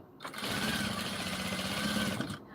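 A sewing machine runs steadily for about two seconds, making a fast, even mechanical whir and stitch chatter while stitching a puff sleeve onto a silk saree, then stops abruptly.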